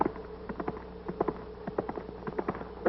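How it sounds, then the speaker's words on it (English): Large horse's hooves clip-clopping in a steady, irregular walking rhythm over a low hum, fairly close, with no talk. "Granny, that's the biggest horse I ever seen in my life."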